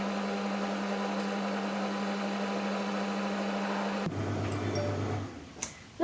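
A kitchen machine runs at speed 2 while heating to 50 degrees to melt chocolate and butter. Its motor gives a steady, even hum that suddenly drops to a lower drone partway through, then fades near the end.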